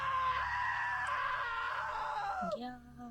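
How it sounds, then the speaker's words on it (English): A woman lets out a long, loud, sustained scream in the video game What Remains of Edith Finch. The scream bends downward and breaks off near the end, followed by a short, lower vocal sound. "Now that was a great scream."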